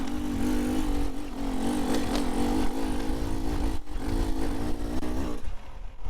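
A Beta Xtrainer 250 two-stroke dirt bike engine under way, droning loud and close with continuous wavering pitch as the rider works the throttle, briefly dipping near the end.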